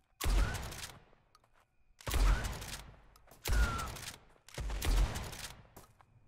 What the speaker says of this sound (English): I got a lot better at shooting in this game